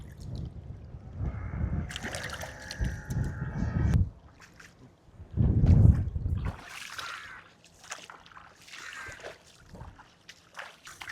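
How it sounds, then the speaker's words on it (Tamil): Fish are washed by hand in sea water on a small island off Jaffna, with sloshing splashes and trickling water in uneven bursts, close by, then quieter dribbles. "இதுதான் மீனை கழுவுற பாருங்க"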